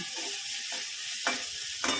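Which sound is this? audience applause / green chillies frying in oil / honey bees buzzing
green chillies frying in oil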